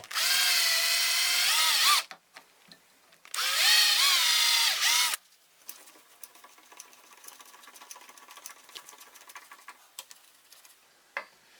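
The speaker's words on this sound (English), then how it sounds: "I drill by eye where I think the screw should go" A power drill whines loudly in two bursts of about two seconds each while boring a screw hole in a wooden circular-saw jig, followed by quieter ticking and light tapping of the workpiece being handled.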